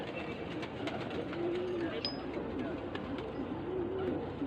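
Racing pigeons in a Shubra loft coo in soft, low, repeated rolling calls over a steady background hiss, with faint chirps mixed in and a voice briefly audible.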